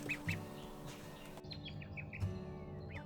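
Ducklings chirping and peeping in short, high calls, a few at a time, fairly quiet and close by.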